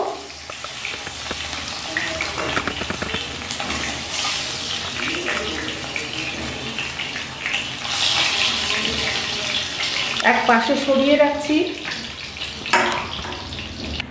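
Rohu fish fries in hot oil until golden brown, a continuous close sizzle with occasional clinks and scraping from the pan, while someone speaks briefly over it.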